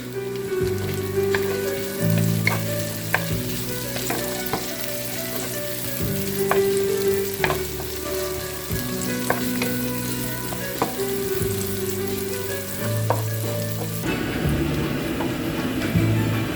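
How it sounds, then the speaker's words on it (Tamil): Onion and green chilies fry in oil with a continuous bright sizzle, overlaid by regular utensil taps and scraping strokes in a steady rhythm, fairly close, with background music and no talk. "இப்போ நாங்கள் வெங்காயத்தையும் மிளகாயையும் தாளித்து எடுத்துட்டோம்."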